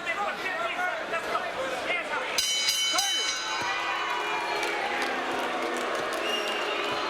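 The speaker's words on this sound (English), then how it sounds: "The chorus of boos, the same chorus of boos we heard after the first and the second" A crowd of about 10,000 at the Palace boos at a heavyweight boxing bout, a broad, sustained roar of disapproval with some whistles and shouts, heard under a commentator talking.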